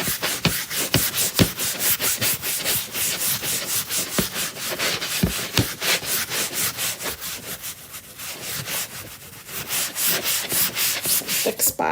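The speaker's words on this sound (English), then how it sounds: "we're going to go ahead and buff it a little bit. So what I'm doing is I'm going to really get it rubbed in." Cloth buffing chalk paste into a surface, a rapid rhythmic back-and-forth rubbing with steady swishing strokes, close and loud, briefly easing off before resuming.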